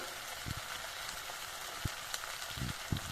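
Ground coriander and cumin sizzling in oil in a pan for a Bengali-style jackfruit curry, a steady soft fizz with occasional low knocks of a spoon, no voices.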